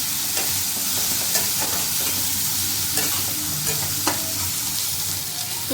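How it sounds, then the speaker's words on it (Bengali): Ginger, garlic, onion and chili paste frying in a pan, a loud steady sizzle with repeated spatula stirring strokes scraping through, close up and without talk. "এবার এগুলো ভালোভাবে একবার মিশিয়ে নিতে হবে, ভালো করে ভাজতে হবে।"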